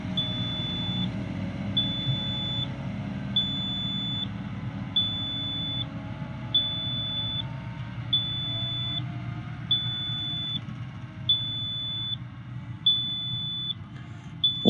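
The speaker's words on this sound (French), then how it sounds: "c'est dommage qu'il y ait le petit bip bip" Beeping alarm inside the cab of a snow groomer at a ski resort: steady, evenly spaced high-pitched beeps repeating about every second and a half over a constant low engine rumble.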